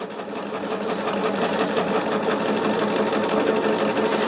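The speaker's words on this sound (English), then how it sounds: "I did sew the bodies of the bags at the same time." A sewing machine stitches fabric bag bodies in a fast, steady mechanical whir with rapid needle pulses, running continuously and close by without pause.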